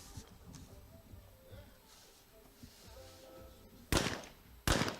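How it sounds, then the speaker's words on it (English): Two loud shotgun shots fired a little under a second apart during a skeet reverse pair at a men's team gold-medal match in Madrid, each a sharp broadband blast after quiet, murmuring background. "He now is getting ready to shoot the reverse pair on 3."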